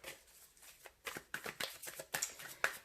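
Tarot cards being shuffled by hand, a steady run of crisp riffling slaps and soft papery flutters, close and fairly quiet, with no talking.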